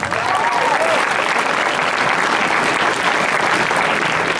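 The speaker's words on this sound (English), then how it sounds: "give yourself a big round of applause" Audience at a UCLA teen summit keynote breaks into loud, sustained applause, a dense steady wash of clapping that holds for several seconds without letting up.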